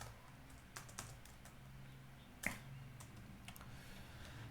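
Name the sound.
typing on a computer keyboard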